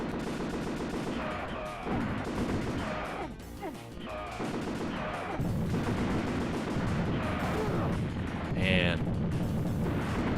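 Explosions and gunfire from the Xbox game Azurik: Rise of Perathia, a dense, continuous barrage of crunchy blasts and shots under a voice.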